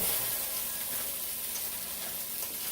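Crumbled sausage sizzles and crackles steadily in a hot pan, a continuous close frying hiss with no voices.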